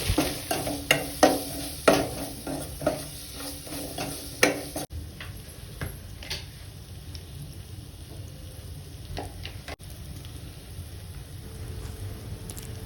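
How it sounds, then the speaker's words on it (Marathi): Ginger garlic paste and gram flour sizzle in a hot pan while a spatula scrapes and taps against it, clattery at first, then a steady hiss of frying. "त्यात आलं लसूण पेस्ट आणि 1 चमचा बेसन पीठ घालून चांगलं परतून घेतलं आहे"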